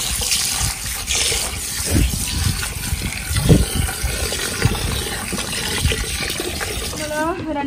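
Basmati rice being swished and rinsed by hand in a bowl of water, with irregular sloshing and splashing bursts close by over a running wet background.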